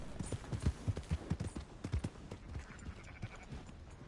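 Horse hooves clip-clop in a quick rhythm in Red Dead Redemption 2, fairly faint, gradually fading into quieter background noise.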